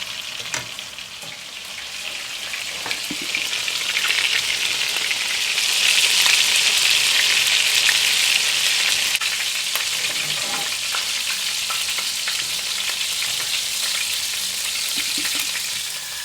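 Persian meatballs (kofteh) sizzle and fry in a pan, a steady bright crackle that swells midway and stays loud throughout, with occasional soft clinks of turning, no voices.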